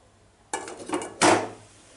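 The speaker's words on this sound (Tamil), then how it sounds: "இப்போ நம்ம ரெடி பண்ணி வச்சிருக்கிற பீஸாவை அப்படியே உள்ள வச்சிரலாம்" Homemade pizza set into a preheated pot for baking: two close metallic clanks, a lighter rattling knock followed by a louder ringing clatter of pot and lid, with no talk.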